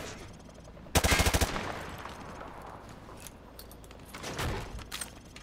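Gunfire from a weapon penetrating light cover in Call of Duty: Modern Warfare 2 Remastered: a fast, loud burst of automatic shots near the start, then fading echoes and fainter mechanical rattles.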